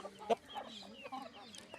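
Hens and a rooster cluck quietly and intermittently, one brief louder squawk early on, with soft murmuring calls nearby.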